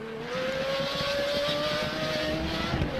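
A Pagani Zonda in the RaceRoom racing game holds a steady, sustained engine drone at moderate volume, rising slightly in pitch throughout.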